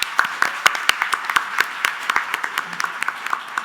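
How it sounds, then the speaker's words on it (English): A room of conference attendees applauds keynote speaker Sassy at the One Retinoblastoma World 2024 event, a steady burst of many hands clapping with sharp individual claps standing out close by. "Let's give up one more round of applause for Sassy."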